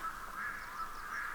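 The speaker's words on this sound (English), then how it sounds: "That's the sound of the red-throated loon." Repeated nasal, goose-like honking calls from a red-throated loon, fairly close and steady, with a faint high call in the background, in Sweden.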